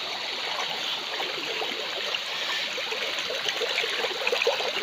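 Strong current of a murky river rushing steadily past, a dense continuous watery roar that holds close and fairly loud from start to finish, with no voices over it.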